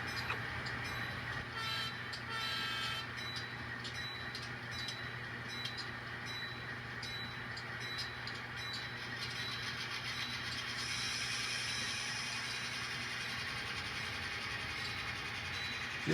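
Diesel locomotive, a GP38-2 or GP39-2, rumbles through a rail yard with a steady low engine drone and a faint mechanical clatter. It sounds somewhat distant and continuous throughout.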